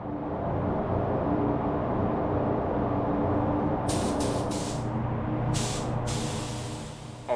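A spray gun lays down a base coat through a PRD 717 split nozzle, a loud steady close hiss of air and paint that runs throughout, with a few brief higher bursts near the end.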